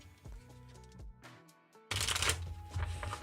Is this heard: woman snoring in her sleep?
no